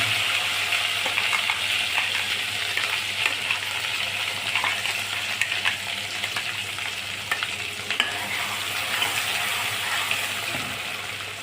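Gravy for a dhaba-style kofta curry sautés in a pan with red cumin seeds, giving a steady, close sizzle with scraping stir strokes throughout and no voices.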